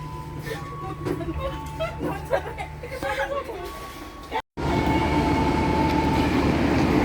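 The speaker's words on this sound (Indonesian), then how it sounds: "ini kereta api Toho Penataran tujuan Malang sampai Surabaya, KA 413 masuk jalur 1" The Penataran passenger train rumbles into Kediri station, Indonesia, on track 1 close by, with a rising metallic roar and rattling cars, while people talk nearby before a brief cut.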